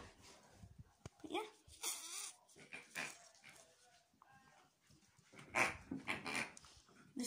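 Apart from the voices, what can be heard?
dog whimpering and panting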